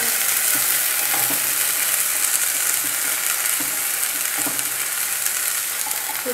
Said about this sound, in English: The smell of the onion frying is coming through right now